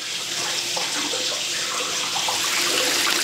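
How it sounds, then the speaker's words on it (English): Tap water runs steadily into a sink while hands are rinsed, a close, continuous rushing splash with no pauses and no talk. "Rinse off my hands."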